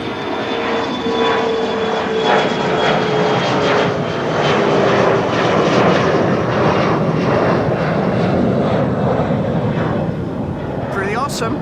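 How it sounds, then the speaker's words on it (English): An SAS CRJ 1000 regional jet at Amsterdam Schiphol Airport produces a loud, steady engine roar with a faint whine, sustained throughout while someone talks over it. "It is a CRJ 1000."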